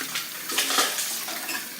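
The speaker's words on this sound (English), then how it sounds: "And then I'm gonna turn on the water" Warm water running from a tap, a steady splashing gush at close range with slight variations in flow and no talking.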